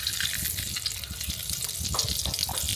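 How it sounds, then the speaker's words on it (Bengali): Chicken pieces fry lightly in hot oil in a village-style kitchen for Arabian chicken kabsa, giving a steady, close bubbling sizzle with soft crackles and no talking. "এই তেলটা এবার গরম হয়ে গেছে। এবার আমরা চিকেনলা দিয়ে দিলাম একটু ফ্রাই করলাম হালকা করে।"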